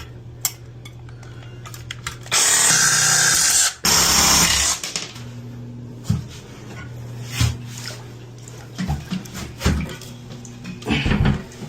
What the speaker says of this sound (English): I have to cut these out because they keep spinning.